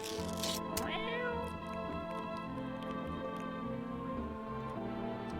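A cat in a video game meows repeatedly in drawn-out, wavering cries over a dense, steady background of game music.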